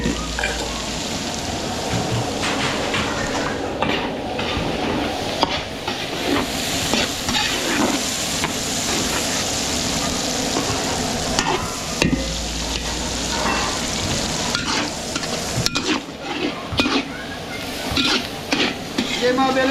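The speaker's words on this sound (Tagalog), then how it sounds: "papupulayin lang natin bawang sibuyas" Garlic and onion sautéing in cooking oil in a pan, a steady close sizzle with stirring and clinks of a utensil against cookware throughout, ambient clatter underneath and no clear talk.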